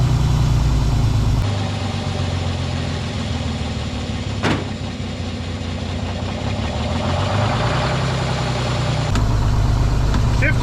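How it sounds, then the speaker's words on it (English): A White Road Xpeditor truck, parked since 1996, idles after starting, its diesel engine rumbling close and steadily, dipping and rising as the governor settles, with a sharp clank partway through. "Starting pretty good now. Takes a little while for the governor to catch up."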